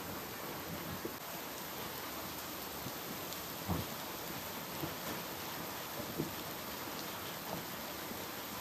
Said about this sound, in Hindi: आज की बारिश बहुत ज़्यादा तेज है